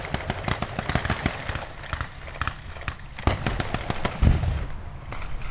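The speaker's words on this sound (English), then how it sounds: "We've got grenades going out." Blank grenades and small-arms blanks go off at a WW2 battle reenactment at Tank Fest 2025, a rapid crackle of sharp reports with a couple of heavier booms, some close and loud, heard outdoors.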